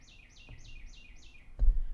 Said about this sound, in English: It sounds like the bird is right outside the house.